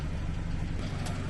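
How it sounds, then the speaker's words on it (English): Land Rover Series IIA 109 Dormobile engine idling cold at a low idle with the bonnet open, a steady low rumble throughout with no talk over it. "You can hear the engine, see the engine. It's cold"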